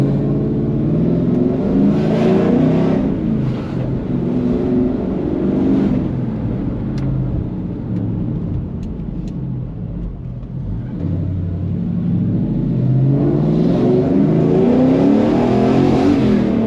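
A lowered Coyote-engined pickup truck revs and rumbles up and down while driving, loud and close, easing off in the middle before building again.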